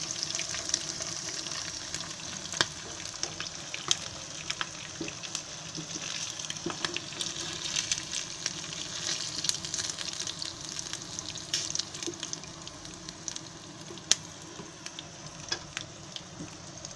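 Prawns deep frying in hot oil, giving a steady, even sizzle with scattered crackles and pops that runs continuously for seventeen seconds, quiet and close, no voices.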